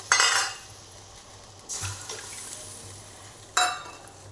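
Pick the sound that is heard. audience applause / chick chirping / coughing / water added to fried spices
water added to fried spices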